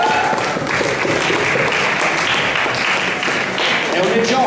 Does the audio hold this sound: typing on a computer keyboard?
no